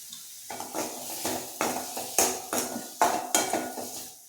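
A spoon stirs thick masala gravy with shallots in a metal pan, giving about eight rhythmic scraping strokes under a soft sizzle, close and fairly quiet, with no talk.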